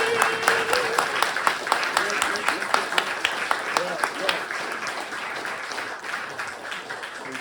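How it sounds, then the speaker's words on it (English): A community gathering at a Brixton Buddhist centre on Sangha Day breaks into a round of applause, scattered sharp claps from a modest crowd with some voices speaking and murmuring underneath. "let's give a round of applause to the spiritual community."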